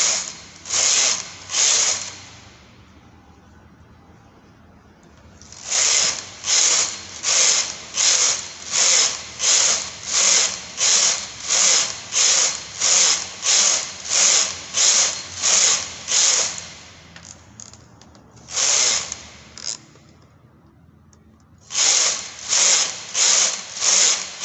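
A knitting machine carriage rasps back and forth across the needle bed knitting rows of a waistband for jogger pants, a loud rhythmic series of ratcheting passes in two long runs separated by quiet pauses.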